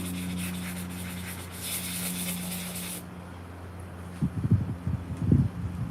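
Sanding paint off the body of a 1967 Dodge Dart with fine-grit paper, a broadband rasping scrape for about three seconds, then a quieter stretch with a few low thumps and handling knocks near the end.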